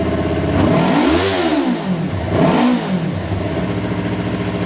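A warmed-up Yamaha YZF-R3 motorcycle engine is blipped twice, each rev climbing sharply and falling back to a loud, close, burbling idle, with no voices present.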